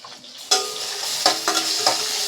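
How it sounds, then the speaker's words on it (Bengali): Four cracked cardamom pods, 8-10 dried chillies and two bay leaves sizzle in hot oil as a tempering for a rohu fish-head kalia, with a steady close frying hiss and a few sharp spatula stirs. "আর এখানে 8-10টা মরিচ আর 2খানা তেজপাতা দিয়ে দিলাম ফোড়ন"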